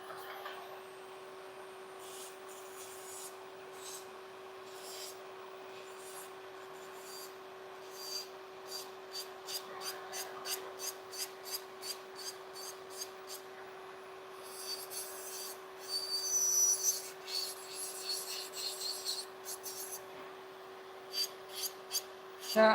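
Hand file rubbing against fingernails during a self-manicure, a steady soft rasping that turns into a quick run of short regular strokes and then brisk scratchy bursts, close and quiet with a constant electric hum beneath.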